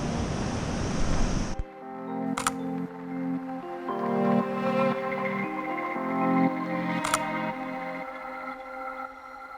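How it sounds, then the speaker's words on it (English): Ocean waves crash on a Pacific Northwest shore, a loud continuous roar of surf with repeated breaking swells and a steady wash of spray close by. "these waves are insane"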